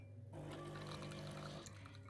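An office coffee machine running its clean mode, flushing water through its internals with a steady loud rushing and gurgling hum that continues for about two seconds.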